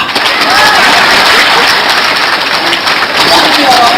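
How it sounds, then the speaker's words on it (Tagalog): A crowd applauds steadily, a dense wash of clapping that holds loud and even throughout, with voices mixed in under it. "Palakpak!"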